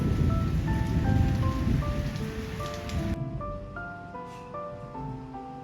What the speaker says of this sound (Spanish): Escucha cómo caen las gotas de la lluvia.